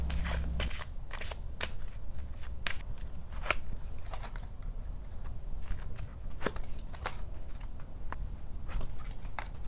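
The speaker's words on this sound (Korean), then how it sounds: "제가 그 카드를 뽑아 볼게요" Lenormand cards being drawn and shuffled by hand, giving a steady run of soft papery riffles and sharp flicks close to the microphone, with no voices.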